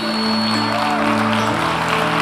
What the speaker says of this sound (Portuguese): É para aplaudir.